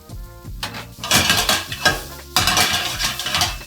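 Shallot hits a hot pan with bacon and venison, giving a crackling sizzle broken by scraping stirs and clinks of a utensil against the pan, close and fairly loud.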